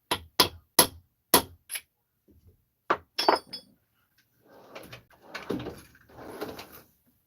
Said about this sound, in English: let's tap it down, another ½ millimeter